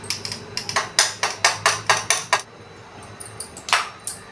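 Spoon beating an egg mixture with onion, milk, garam masala and chili powder inside a glass, making a quick series of bright, sharp clinks close up, then a pause and a few more taps.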